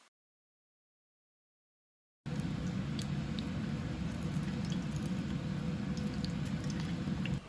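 Costco takoyaki octopus balls deep frying in hot oil: after a couple of seconds of silence, a steady, dense bubbling sizzle starts abruptly and runs on evenly, close and moderately loud, with no talking.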